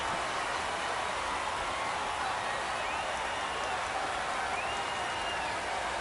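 A home crowd cheers a home run at a minor league baseball game between the San Antonio Missions and the Corpus Christi Hooks. The broad, steady roar of the distant stadium holds evenly throughout.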